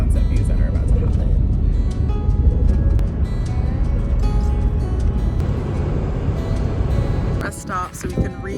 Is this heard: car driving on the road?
yes